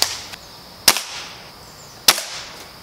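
A Nerf rifle blaster fires darts at a pumpkin in three sharp snapping shots, the second and third loud and well spaced, each followed by a quick thud, close by with no talking.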